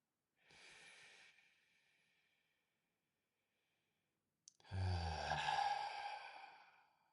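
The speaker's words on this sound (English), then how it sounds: "Maybe we can all take one collective breath together." Collective breath during a guided meditation: a long audible inhale through the nose, a pause of silence, then a fuller, louder exhale from several people breathing out together, trailing off softly.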